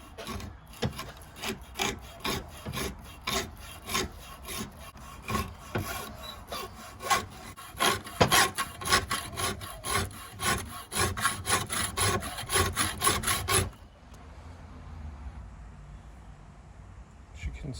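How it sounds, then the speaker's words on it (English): A hacksaw cuts slowly through the metal band of a polyurethane suspension mount, with steady rhythmic back-and-forth strokes, close and fairly loud, for about fourteen seconds before stopping and leaving a quiet background. "got the rest out with the hacksaw. Time to start our cut through the metal band."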